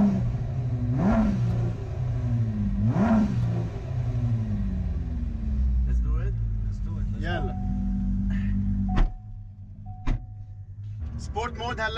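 Ford GT supercar engine revving up and down in sport mode, a deep rumbling rise and fall repeated twice, heard from inside the cabin, followed by idle, sharp clicks and short mechanical whirs, with someone talking over it.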